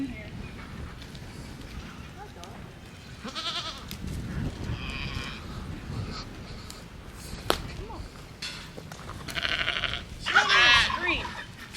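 Sheep and a lamb bleat on a farm, several scattered wavering calls, some near and some farther off, amid people talking and background rustle.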